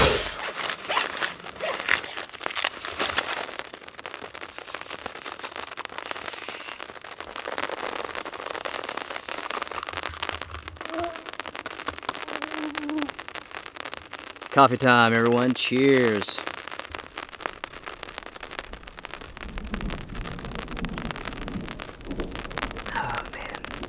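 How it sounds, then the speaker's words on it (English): Light rain patters steadily on a campsite while overlanding in Colorado and South Dakota, a soft continuous hiss behind someone talking, with a brief louder rustle midway. "As you all can hear, it's raining. It's not very heavy, but it is coming down."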